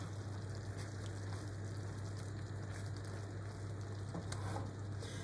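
Cream stirred and reduced in a pan for a mushroom and chicken liver pie gives a steady soft sizzle and bubbling, with faint scraping of the stirring now and then and no talk over it.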